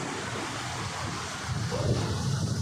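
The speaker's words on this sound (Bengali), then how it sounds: "ওই যে একটা ঢেউ আসছে দেখো" Sea waves at Old Digha beach, a steady broadband wash of surf with wind noise, swelling louder in the second half as a wave rolls in and breaks nearby.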